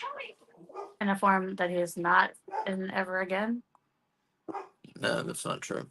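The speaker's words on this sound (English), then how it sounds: "Sorry for the barking." A German Shepherd mix dog barks and whines indoors in clustered, repeated yelps, with a person talking over and between the bursts.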